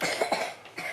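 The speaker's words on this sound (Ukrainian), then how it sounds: "Ану, покашляй." A child gives a couple of short, close coughs in quick succession, brief and fairly loud.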